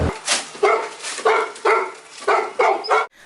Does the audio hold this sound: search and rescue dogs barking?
yes